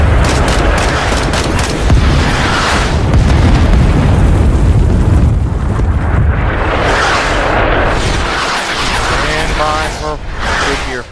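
Loud, continuous explosions roll and boom from a napalm strike in the Vietnam War shooter Rising Storm 2: Vietnam, with dense blasts overlapping and fading into rumble, and a player's voice talking over them.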